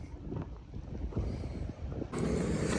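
Small passenger boat on a dam lake near Islamgarh, Mirpur, Azad Kashmir, with a steady low engine drone, water wash and wind buffeting the microphone, swelling louder near the end, no talk.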